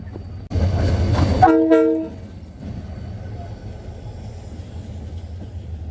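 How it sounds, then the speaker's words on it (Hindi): A train pulls into a small station in Pakistan, sounding a loud horn blast over a deep rumble, which then settles into a quieter, steady rolling drone. "और ये ट्रेन आई है, 3-4 मिनट हुए हैं"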